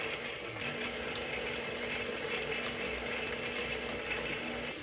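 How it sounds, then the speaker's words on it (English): Electric stand mixer running on low while flour is added to pound cake batter, a steady continuous whirring drone with a faint hum, constant level throughout, no voices. "now we're going to start adding in the flour, little by little until it's all incorporated, with the mixer on low"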